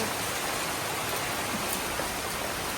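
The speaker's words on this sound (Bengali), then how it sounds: "এই তো বৃষ্টি চলে আসছে এই যে কি পরিমাণে বৃষ্টি হতেছে" Heavy rain pours down in a dense, unbroken hiss, loud and close, with no talking over it.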